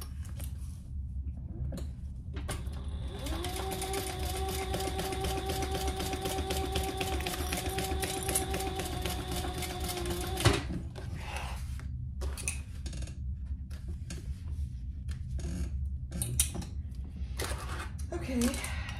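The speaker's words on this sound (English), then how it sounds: "we're gonna sew along that top" Sewing machine basting along the top of a Yoshi sling backpack, a continuous rapid mechanical whir lasting several seconds before stopping, followed by quieter handling clicks.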